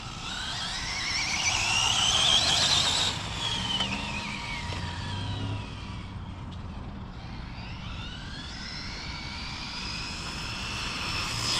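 A high-pitched electric whine rises and falls, fairly loud and continuous with no talk. It comes from an on-road bashing RC car running 6S with an 1100 kV can motor, geared 1-to-1 at 39-39, on Proline Toyo Proxes R8 tires.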